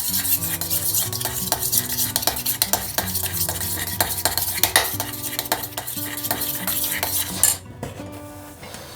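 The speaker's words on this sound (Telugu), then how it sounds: "ఇప్పుడు మనం ఒకసారి బాగా మిక్స్ చేసుకుందాము" A spoon stirs ragi java, a millet drink, with milk in a metal vessel, giving rapid repeated clinks and scraping against the pot, close and steady, then ending with a final clatter.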